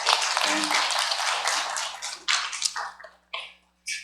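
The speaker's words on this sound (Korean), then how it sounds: "김지영 어린이에게 박수 한번 쳐주겠어요." A congregation gives a round of applause for a young girl who read aloud at an early-morning family worship service: a dense burst of clapping that thins into a few scattered claps before stopping.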